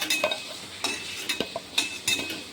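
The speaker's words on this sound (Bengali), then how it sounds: "আমি এগুলো এখন তেল থেকে তুলে নিচ্ছি।" Cottage cheese (chhana) sweets being lifted from hot frying oil, with a soft steady sizzle and several light clinks and scrapes of a utensil against the pan, close by with no talk.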